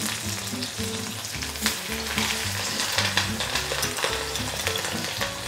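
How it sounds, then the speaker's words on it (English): Pieces of rohu fish sizzle loudly in hot oil for an Assamese fried fish curry, a dense, steady crackle throughout with faint music underneath. "I'm going to add the fish to fry. Here goes the fish."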